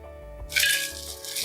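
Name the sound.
crunchy roasted Kashmiri chillies and curry leaves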